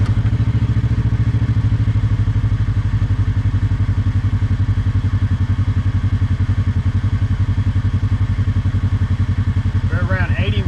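A Kawasaki KRX UTV engine idles close by with a loud, steady, throbbing rumble that runs unbroken, with a faint chirp near the end.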